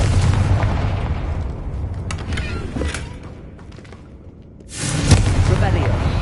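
A Confringo blasting spell explodes in the video game Hogwarts Legacy, a loud booming blast with creaking debris that decays into quieter rumbling, then a second sharp explosion bursts in near the end, with speech mixed in.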